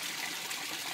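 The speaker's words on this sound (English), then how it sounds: "There's just a siphon going." Water drains through a siphon in a backyard aquaponics setup, a steady close gushing rush of flowing water for about a second, with no talk.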